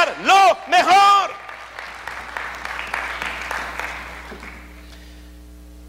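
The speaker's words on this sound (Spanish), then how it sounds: "Denle un aplauso al Señor." A congregation at a church service applauds in praise of the Lord. Loud whoops and shouts come first, then scattered clapping that fades away gradually.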